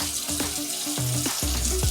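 Water runs steadily from a kitchen faucet into the sink while the faucet is being cleaned, a close, constant splashing rush with small clatters, no talking.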